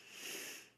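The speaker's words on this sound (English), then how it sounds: "if you hear me sniffling, it's my runny nose." One short, faint nasal sniff from a runny nose, close by and alone.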